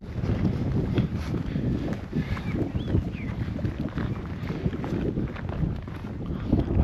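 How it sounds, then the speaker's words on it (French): Gusty wind buffets the microphone at an open lakeside viewpoint by Lake Butgenbach, a steady low rumble that fills the whole stretch without letup. "J'espère que vous m'entendez malgré le vent."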